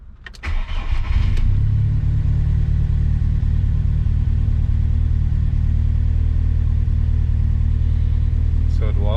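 A VW MK2 Golf cranks with a few sharp starter bursts, then catches and settles into a steady, loud, close idle rumble after a hot drive.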